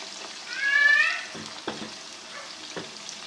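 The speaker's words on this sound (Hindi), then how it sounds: "हल्का सा फ्राई करके ब्राउन करके इसको निकाल लेते हैं" Beef kofta meatballs fry in a kadai that is swirled by hand, giving a soft steady sizzle with a few clinks, while a brief high whining tone rises and fades early on.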